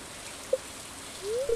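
Soft, continuous rain hiss falls in the Stardew Valley video game. A couple of short, clean chime-like game tones ring out over it.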